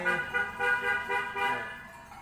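A car passing outside with its horn honking: a sustained, buzzy, tonal blare that pulses in a few long swells over the hum of traffic.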